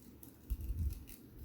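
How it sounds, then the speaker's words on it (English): Scissors snip through old book pages to cut out a small butterfly shape, a short cluster of soft, close crunching cuts in the middle of a quiet room. "Let's cut a little butterfly."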